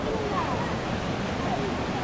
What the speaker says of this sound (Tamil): தண்ணியை பாருங்கள் வேறு லெவலில் விழுதுங்க